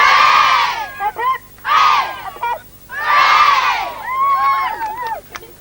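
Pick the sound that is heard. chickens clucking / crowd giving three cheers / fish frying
crowd giving three cheers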